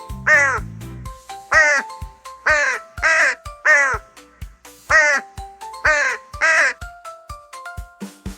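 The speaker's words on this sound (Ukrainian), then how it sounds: "Що за важна чорна птаха? Це ворона. Кар-кар-кар." A crow cawing outdoors in a run of about eight loud, harsh calls spaced at a steady rhythm, with light clicking sounds between calls.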